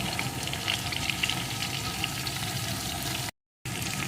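Chopped tomato, slit green chillies, salt and spices fry in a pan with a steady close sizzle and light stirring, broken once by a brief gap.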